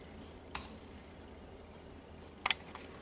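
Quick typing on a computer keyboard, two brief clusters of crisp key clicks about two seconds apart in a quiet room.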